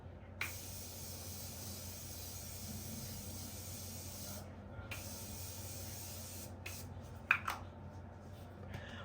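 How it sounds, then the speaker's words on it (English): Makeup setting spray mists onto a face in soft, steady hissing bursts, two long sprays with short pauses and a faint click near the end, quiet and close. "I'm going to drench my face in setting spray right now"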